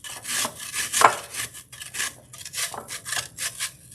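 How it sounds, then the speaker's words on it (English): Onion being ground for kebab, a close series of rough rasping, grating strokes in an uneven rhythm with a few sharper scrapes. "So first, what you want to do is grind your onion."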